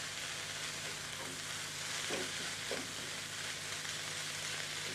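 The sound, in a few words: onions and meat sizzling in Turbo Cooker pan without oil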